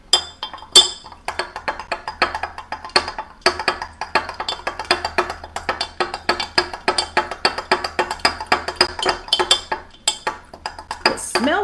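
A spoon stirring a gelatin drink in a glass, rapid rhythmic clinks and taps of metal against glass, close and crisp, continuing steadily with no voices.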